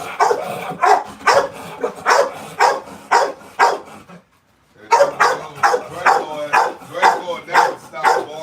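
A dog barks over and over in a steady, loud run of sharp barks, breaking off briefly for a moment of quiet before the barking starts again just as close and insistent.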